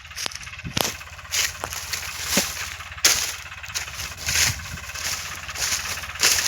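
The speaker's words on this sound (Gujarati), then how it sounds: "ટ્રેક્ટર ઊભું કરે છે," A tractor engine cranks and catches, then settles into a loud, uneven chugging rumble with clattering knocks.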